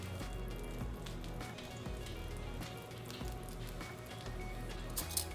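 Pancake batter sizzles in melted butter on a hot griddle, a soft continuous crackling hiss with scattered pops, fairly quiet and steady.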